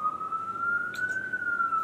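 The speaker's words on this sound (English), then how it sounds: "these sirens interrupt my video every time" An emergency vehicle siren sounds outside, a steady wailing tone that slowly rises in pitch over under two seconds, moderately distant and heard alone with a faint background hum.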